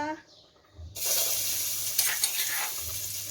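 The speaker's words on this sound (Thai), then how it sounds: "เราก็จะมาผัดหน้ารอเลยนะคะ" Sauce is stir-fried in a hot pan for drunken seafood spaghetti: quiet at first, then a loud sizzle bursts in and carries on with scraping stir sounds, close by.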